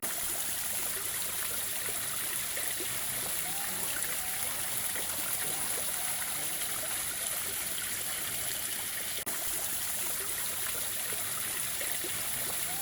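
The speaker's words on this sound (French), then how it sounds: "ici on a une rivière" A river in a zoo enclosure at Le PAL flows with a constant, fairly faint rushing and trickling wash, unbroken throughout.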